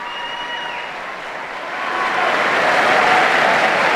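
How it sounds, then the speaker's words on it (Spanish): Pilgrims and faithful in a large audience hall applaud the Pope's arrival, a dense, steady roar of clapping that swells louder halfway through. "Y ahí escuchamos pues a todos los peregrinos y fieles el gran aplauso por su llegada."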